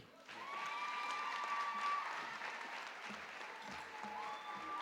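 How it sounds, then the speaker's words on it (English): Graduation ceremony guests in Keetmanshoop clap for a prize winner, a moderate, sustained patter of many hands that swells in and holds steady, with a faint tonal squeal and brief murmurs underneath. "Let us please clap for Shannon."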